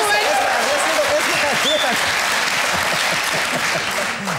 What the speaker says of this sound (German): Sie hören hier im Hintergrund das Klatschen.